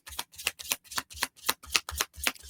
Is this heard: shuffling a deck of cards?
yes